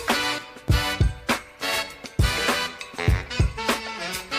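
Drums and percussion hit in a steady groove with punchy beats, layered under bright brass horn lines playing a funky riff.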